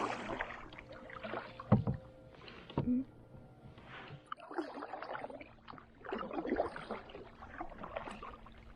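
Paddle strokes dip and pull through calm, glassy lake water beside a canoe in the Adirondacks, soft gurgling swishes in an irregular rhythm with occasional knocks against the hull.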